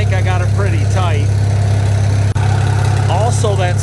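A Farmall Super M-TA tractor engine idles with a steady low rumble and an occasional slight skip, close and loud, while someone talks over it.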